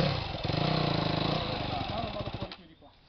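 An engine runs loudly in first gear with a rough, rumbling tone that fades toward the end, while a voice talks over it.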